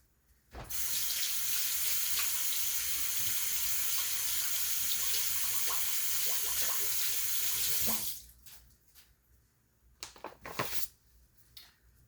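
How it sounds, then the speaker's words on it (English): Tap water runs loudly into a kitchen sink while sticky hands are washed after handling pizza dough, a steady close rush for several seconds, then the tap shuts off and faint splashes and handling noises follow. "I gotta wash my hands."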